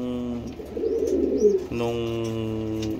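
Racing pigeons in a backyard loft coo with deep, throaty, rolling calls that start, pause briefly and then resume, heard up close with light bird chatter in the background.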